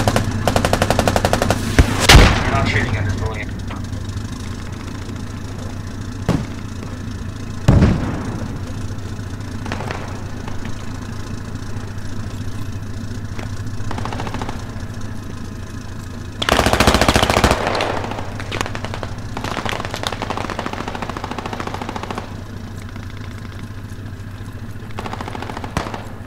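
Battlefield gunfire in Project Reality during an invasion of Al Basrah, with sporadic loud bursts and single shots over a steady idling engine rumble, some shots near and others distant.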